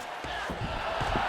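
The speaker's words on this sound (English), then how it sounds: "Crowd going crazy." Roaring arena crowd cheering during an EA Sports UFC mixed martial arts bout, a steady wash of noise from many voices with a commentator faintly under it.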